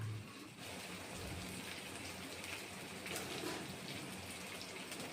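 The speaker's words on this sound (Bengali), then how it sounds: "ফোড়নের জন্য মশলাটা কষিয়ে নিচ্ছি।" Whole spices sizzle steadily in hot oil as a tempering for a homemade chicken soup, giving a close, even, hissing crackle like light rain that runs unbroken with no talking.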